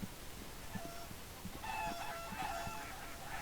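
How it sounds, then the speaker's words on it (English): Chickens and ducks call in the farming simulation game Farm Expert 2017, faint clucks and crowing mixed with honking quacks, several overlapping calls in a quiet setting. "we have chickens on this side, and this is fully expanded, by the way, and ducks on the other"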